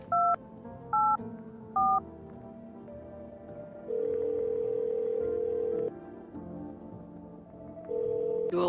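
Phone dialing in the video game No, I'm Not a Human: three quick beeping keypad tones, then longer steady tones separated by pauses, heard quietly over a low background hum.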